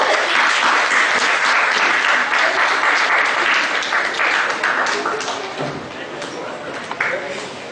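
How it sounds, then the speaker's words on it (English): Sustained applause from a large crowd at a professional lecture, dense clapping that stays loud and then gradually thins toward the end. "Please, use round of applause."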